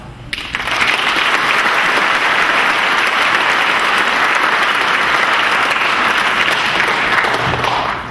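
Loud, sustained audience applause for students at an Academic All Stars awards evening, dense clapping that swells in quickly and holds steady for several seconds before trailing off.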